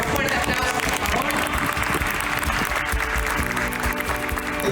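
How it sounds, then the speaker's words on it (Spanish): An audience at a corporate event applauds as a guest is invited onto the stage, dense steady clapping with crowd noise and a faint tonal background underneath. "Con un fuerte aplauso"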